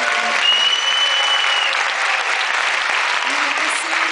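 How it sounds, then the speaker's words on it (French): A crowd at an awards ceremony applauds loudly and continuously, a dense wash of clapping that holds steady for several seconds, with faint voices mixed in. "Je pense qu'on peut encore l'applaudir très fort."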